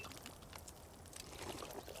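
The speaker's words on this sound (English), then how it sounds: "We'll go ahead and drink up a little bit." A character in the game DragonWilds drinks water, giving a quiet, soft pouring and trickling sound that runs steadily for a couple of seconds with no speech.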